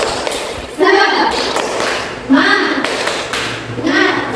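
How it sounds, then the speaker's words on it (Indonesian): Schoolchildren in a second-grade classroom perform the tepuk semangat spirit clap, three bursts of rhythmic group clapping mixed with shouted chanting, loud and close in an echoing room. "Tepuk semangat."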